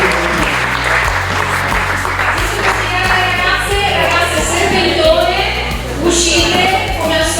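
An audience at a regional beauty pageant claps loudly and continuously, steady applause filling the room with a rhythmic beat under it and a voice speaking over the top.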